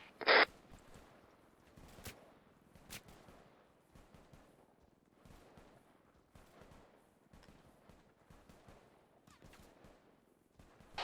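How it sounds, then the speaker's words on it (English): Suppressive gunfire in a military video game: scattered, irregular bursts of shots at moderate distance, one loud close crack at the start, then steady intermittent firing over quiet background. "Team 2, continue suppressive fire."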